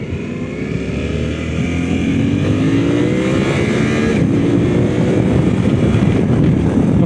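Suzuki V-Strom 800 RE motorcycle on the move, its engine note climbing steadily before a quick shifter gear change clips it and the revs start rising again, all close and loud over constant wind buffeting.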